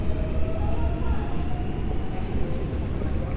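A New York City subway train rumbles into a Midtown Manhattan station, a steady loud low roar with faint squealing tones, continuous throughout with people talking underneath.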